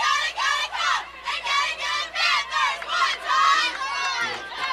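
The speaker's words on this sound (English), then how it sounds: "The cheering you hear, that's from Adelphi." The Adelphi team shouts a rhythmic, chanted cheer in short, repeated bursts at an NCAA college bowling tournament, several voices loud and close together with brief gaps between each call.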